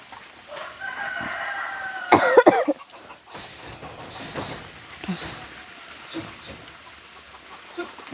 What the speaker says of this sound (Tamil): கோழி மட்டும் இல்லை தாரா நிற்குதா?